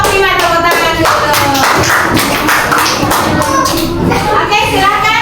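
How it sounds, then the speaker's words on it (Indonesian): Children in a classroom clap for group 5, producing a dense, steady patter of many small hands throughout, with young voices chattering underneath. "Oke, kelompok 5 tepuk tangan dulu."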